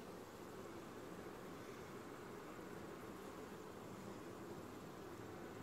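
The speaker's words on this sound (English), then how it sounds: "I don't have very many bees in here. Well, there are quite a few out flying." Honeybees buzzing around a homestead beehive, a continuous soft drone with many insects overlapping, steady and fairly faint with no talking.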